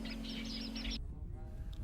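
Birds calling in a wetland nature reserve near Lijiang, a habitat with more than 70 species: a quick series of bright, repeated chirps over a low steady hum, stopping abruptly partway through.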